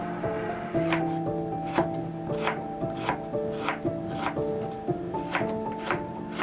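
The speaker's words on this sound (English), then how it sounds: "With a sharp knife, chop the lower portion of the lemongrass into slices like this." A sharp knife chops the lower stalk of lemongrass into slices, a steady run of crisp, evenly spaced cuts against a board, close and distinct over a soft steady background tone.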